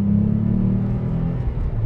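Renault Clio V6 RS engine heard from inside while driving, a low, steady droning rumble with a faint tonal growl that dips slightly toward the end, close and without talk.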